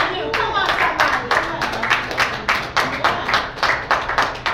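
A church congregation clapping in a steady, rhythmic beat, with about two claps per second, loud and close, while a preacher's voice carries on over it.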